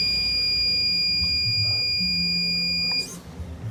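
A smart garage alarm buzzer sounds as a steady high-pitched electronic tone for about three seconds, then cuts off abruptly as it is reset.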